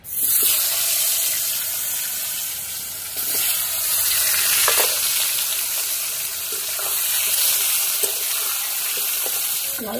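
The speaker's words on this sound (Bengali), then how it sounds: "মাছ ভাজা তেলের মধ্যে লবণ হলুদ মাখানো আলুটা এবার ভেজে নেব।" Salt-and-turmeric-coated potatoes fry in oil left from frying rohu fish, giving a loud, continuous hissing sizzle with occasional soft clinks of a utensil, close and steady with no talk.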